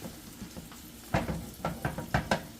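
Beef chuck steak browning in a hot skillet, a soft steady sizzle with a few clicks and light knocks of the pan and utensils, fairly quiet and without talk.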